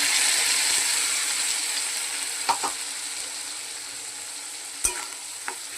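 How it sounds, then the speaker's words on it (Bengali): Spices sizzle steadily while being fried and stirred in a pan for a Bengali fish-roe fritter curry with potatoes. A continuous close hiss runs throughout, with a few soft clinks from a stirring utensil and no talk. "মশলাটা একটু কষানো হবে"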